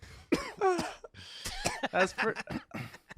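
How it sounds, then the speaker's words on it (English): A person coughs and clears the throat in short bursts mixed with talking, close to the microphone. "I literally was just coughing. It's just an inconvenient cough."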